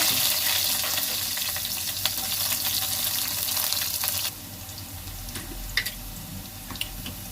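Onion frying in a pan, a loud broad hiss of sizzling that drops suddenly partway through, then quieter crackle with a few stirring clicks, no voices.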